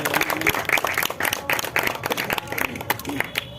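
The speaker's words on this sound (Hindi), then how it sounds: "एक बार जोरदार तालियां तमाम युवा कवियों को" Audience at a World Theatre Day stage event in a Hindi theatre programme applauding young poets, with uneven bursts of clapping mixed with crowd voices and cheering.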